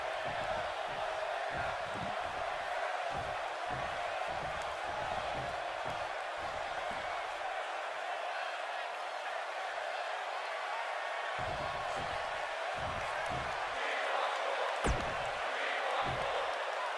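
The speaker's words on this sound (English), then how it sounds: "This crowd obviously wants to know what's going on." Wrestling event crowd, a continuous broad arena roar with a steady din and intermittent thumps and bursts, heard throughout in the background.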